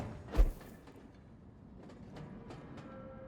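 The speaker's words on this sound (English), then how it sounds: "Train? Where Train? Where Train? I want to see Train." A train passes in the Vampyr game with a soft rolling rumble and a run of rhythmic clickety-clack wheel knocks, opening with a brief loud thump and staying fairly faint.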